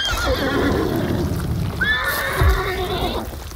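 A horse whinnies loudly in a long, wavering call in the video game Hunt: Showdown, over steady game background noise with faint hoof clatter.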